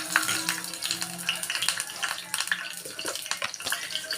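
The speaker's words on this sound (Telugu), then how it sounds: "కొంచెం ఆవాలు, జీలకర్ర వేసుకుంటున్నానండి. వేసుకుని బాగా వేగనివ్వాలండి." Dried red chillies and curry leaves crackle and sizzle in hot oil while tempering for a bitter gourd pickle, with sharp popping bursts and faint low voice-like hum beneath, steady and close.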